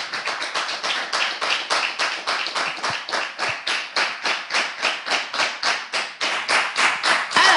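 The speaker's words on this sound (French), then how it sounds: "Je vous demande d'applaudir M. Afaounou Paolo sous vos ovations" An audience at a cultural reading event claps for M. Afaounou Paolo, the hands striking together in unison in a fast, steady rhythmic beat, loud and close, repeating dozens of times without pause.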